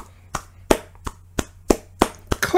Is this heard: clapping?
yes